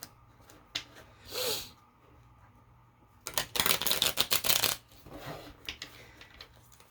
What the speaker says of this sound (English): I'm going to shuffle this deck too